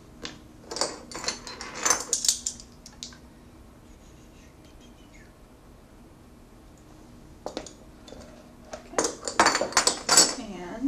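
Utensil clinks and scrapes against a bowl while cake-style batter with vanilla is mixed, in bursts at the start and end with a quieter stretch between, close and fairly loud.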